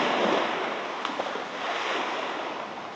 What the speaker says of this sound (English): This is a sandy beach with crystal clear water